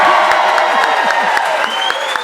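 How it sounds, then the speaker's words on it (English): Loud, dense applause and cheering from a live audience at a tennis talk show taping, a steady wash of many hands clapping up close with a whoop rising near the end. "just round of applause here real quick"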